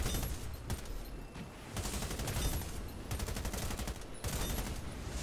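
Rapid bursts of automatic gunfire from the video game Warface, loud and close, in several clusters of shots with brief pauses between volleys and no talk over them.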